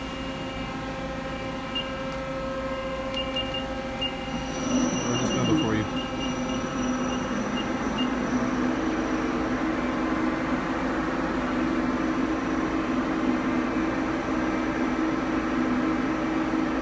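A Mori Seiki SL-65 CNC lathe runs its gear-head spindle in third gear, giving a steady mechanical whine with sustained tonal hum; a brief sweeping shift occurs near the middle before the tone settles again.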